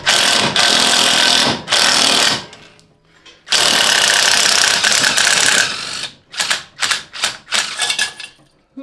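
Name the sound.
puller pulling a part off the donor engine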